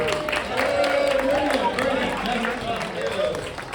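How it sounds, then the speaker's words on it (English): An audience at a poetry event in Los Angeles claps and cheers in a warm burst of applause, with a voice speaking over the crowd noise. "one last round of applause for Luke Johnson and Monica Marchand"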